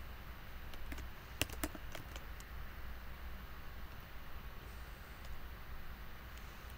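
Code being typed on a computer keyboard: a quick cluster of crisp key clicks early on, then a few scattered taps over a quiet, hissy room background.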